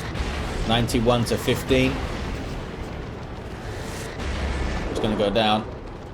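Chaos tanks with double Mark of Tzeentch and autocannon Terminators fire in Dawn of War 2 against Tyranids, heavy booming shots and rumbling impacts sounding repeatedly beneath excited commentary.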